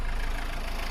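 A Renault Clio 3 engine idles, a steady close rumble with an even low pulse throughout the short stretch.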